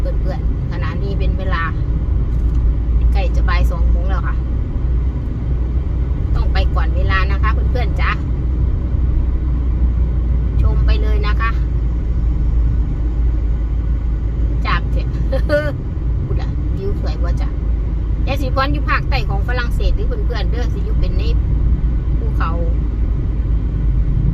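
Continuous low rumble inside a moving car, loud and unbroken, with someone speaking on and off over it.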